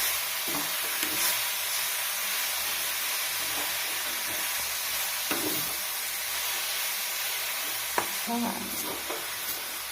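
Leafy greens thoran being stirred in a hot pan, a steady fry-sizzle hiss broken by scraping spoon strokes and a few sharper clacks, close and continuous with no talking.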